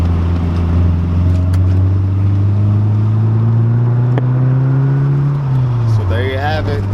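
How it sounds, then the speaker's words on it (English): A Kouki car engine with a full Fortune Auto 500 series exhaust revs with a deep exhaust note, pitch rising slowly then dropping, close by, with a voice talking over it. "Full exhaust sounds so good, like the muffler and everything."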